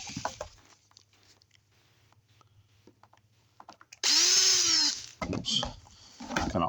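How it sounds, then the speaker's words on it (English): A power drill whines loudly and steadily for about a second drilling a hole in a cracked plastic laundry basket, preceded by quiet handling taps and followed by scraping, clattering bursts close by. "Drill a hole in it."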